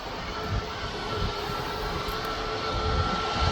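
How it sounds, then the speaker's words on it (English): Ryanair jet rolling toward the runway at Birmingham Airport, a steady, moderately distant engine drone with no voices. "this Ryanair is in a bit of a rush to get onto the runway"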